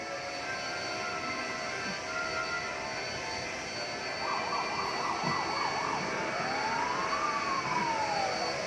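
A fire truck siren wails in the distance, cycling through rapid warbles and then a long rising and falling tone over steady street noise.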